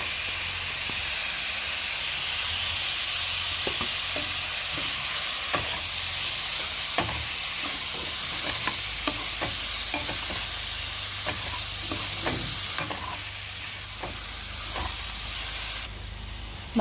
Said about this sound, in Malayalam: ഇനി നമുക്ക് ഇതിലേക്ക് ചേർത്തിട്ട് നല്ലതുപോലെ വഴറ്റാം.